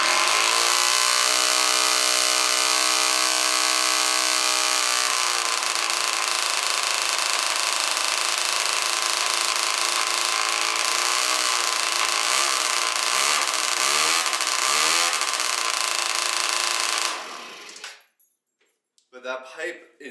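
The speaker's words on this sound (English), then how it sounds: "But it's like the bike's revving up right now" A Yamaha Zuma scooter fitted with a Polini 70cc two-stroke kit and a Yasuni R expansion pipe revs loudly and continuously up close, raspy and buzzing with wavering pitch, before cutting off abruptly near the end.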